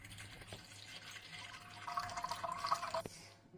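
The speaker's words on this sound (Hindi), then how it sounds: "इसमें पानी डालेंगे" Water pours into an idli steamer pot on a kitchen stove, a soft splashing and trickling stream that grows fuller and louder toward the end before stopping abruptly.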